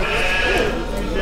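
Gönen kıvırcık lambs bleating at a livestock market, a few close overlapping bleats over constant crowd chatter and background noise.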